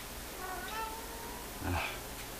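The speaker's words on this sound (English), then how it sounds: "that was one of my cats there." A house cat meows once, drawn out and rising, then gives a second short call nearby in a quiet workshop room, with a faint background hum and no talking.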